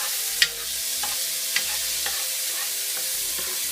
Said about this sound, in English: Toss in our garlic. I'll let this go about a minute.